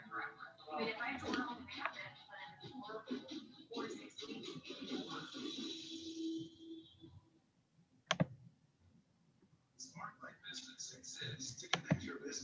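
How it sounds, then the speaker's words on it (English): Rapid keyboard typing clatters faintly beneath murmured voices on an open call line, with a sharp click partway through and more keystrokes resuming near the end. "Somebody's typing and it really is coming across"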